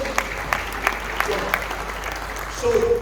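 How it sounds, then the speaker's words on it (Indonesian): A seminar congregation in Manokwari claps in praise of Jesus, a moderate spread of applause with a few distinct sharp claps standing out, and a voice rising briefly at the end. "Berikanlah tepuk tangan bagi Yesus"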